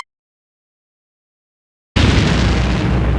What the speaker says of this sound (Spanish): El sujeto activa un detonador y provoca una gran explosión en la ciudad.